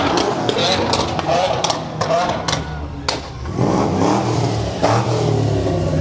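Modified cars rev their engines loudly during a rainy Halloween parade in New Brighton, repeated throttle bursts and roaring under crowd noise and talking, with sharp pops scattered throughout.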